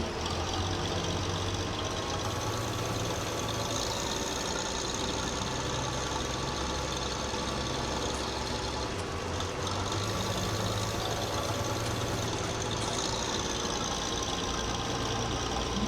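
A small, low-powered tractor engine in a farming simulator game drones steadily at a low, even pitch for the whole stretch, loud and continuous with a faint knocking texture and no voices.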